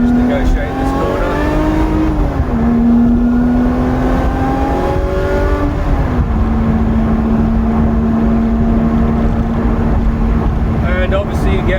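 Supercharged Lotus-style engine fitted with a Komotec EX460 upgrade and custom CNC fuel rails, a loud droning whine that rises and dips while taking a corner, then holds steady, with someone talking over it.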